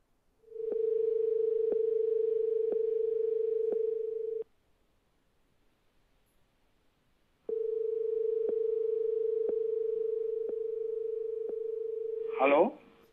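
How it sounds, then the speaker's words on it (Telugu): A landline telephone line gives a steady, loud dial tone marked by faint regular clicks; it cuts out for a few seconds, returns just as steady, and ends in a brief rising chirp. No one speaks. "ల్యాండ్ లైన్ నుంచి కాల్ చేస్తున్నాం, లిఫ్ట్ చేయండి."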